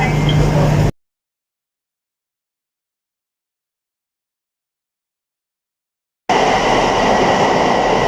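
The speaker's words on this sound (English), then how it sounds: "I am at St Pancras International. I've just got off the train from Dartford." Train station ambience at St Pancras International, London: a loud, dense wash of rail and concourse noise at the start and end, with a long stretch of complete silence in between and voices mixed into the din.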